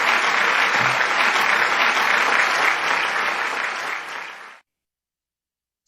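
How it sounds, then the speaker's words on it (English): A conference audience at a world parliament of science, religion and philosophy gives dense, sustained applause to welcome a speaker, then it fades and stops abruptly into silence. "With a big, big round of applause"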